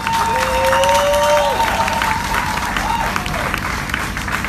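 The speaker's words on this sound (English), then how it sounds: "let me hear a round of applause for Felicia Holder." An audience at a public community meeting applauds, steady clapping that gradually eases off, with faint whistles or cheering in the room and some voices underneath.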